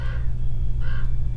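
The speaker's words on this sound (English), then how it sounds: "I don't know if you can hear the raven coming through" Two hoarse caws from a raven ring out in quick succession outdoors, clear and fairly close over a low steady rumble.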